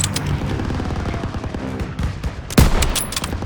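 Rapid machine gun bursts rattle through a Call of Duty WWII battle in a town square, dense and continuous with distant explosions and a louder heavy impact near the end.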